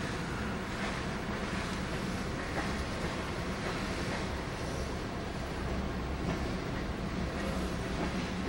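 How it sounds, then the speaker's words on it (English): A Q line light-rail train passes on its rails as a steady, full rumble that runs throughout without a break. "And here, a train in action."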